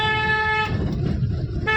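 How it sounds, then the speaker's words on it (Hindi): A car's horn blares in a long, steady honk on a narrow road during a driving lesson, cutting off briefly and then sounding again, loud and close with engine noise beneath. "लंबा हॉर्न देंगे, क्या पता कोई सामने से आ रहा हो।"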